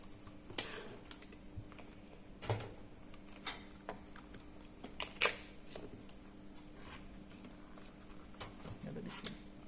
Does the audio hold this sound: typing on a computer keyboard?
yes